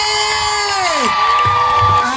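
A congregation at a joint mass service held at Nyasubi Secondary School lets out loud, high, wavering ululating trills together, sustained and close, with cheering mixed in.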